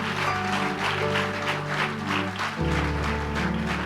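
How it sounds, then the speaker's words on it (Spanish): Congregation applause during a church service, a moderate wash of clapping over sustained musical tones that shift to a deeper chord partway through. "¿Por qué no damos un fuerte aplauso a Dios?"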